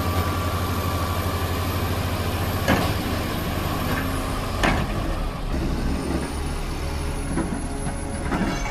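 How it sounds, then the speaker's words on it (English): A ZIL-157 heavy diesel truck engine rumbles steadily nearby while stuck in mud, with a few sharp hisses and clanks over the low drone. "the heavy truck roared with a powerful engine of hundreds of horsepower when stuck in the mud."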